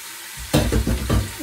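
Meat frying in hot oil in a pot, a loud crackling sizzle that bursts in suddenly after a quiet start and pulses in rhythmic waves as it is stirred.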